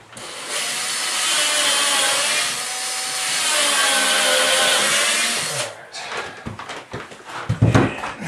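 A power drill drives 2.5-inch screws into wood during bathtub surround wall prep, a loud sustained whirring run of about five seconds with a brief dip midway, followed by shorter bursts and clattering handling noise.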